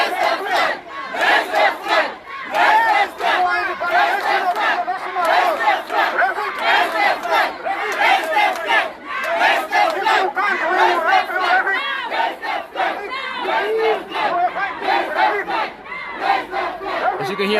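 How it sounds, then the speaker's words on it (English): Demonstrators at the Botswana High Commission, protesting a shooting by the Botswana Defence Force, chant loudly and continuously about a flag, a dense mass of raised voices that barely lets up. "As you can hear, the crowd is demanding, where is the flag, where is the flag?"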